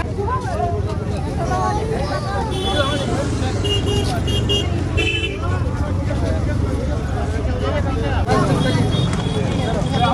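Motorbikes stream past on a crowded road at the Kumbh Mela in Prayagraj, engines droning continuously with scattered horn toots and busy crowd noise, and people talk throughout.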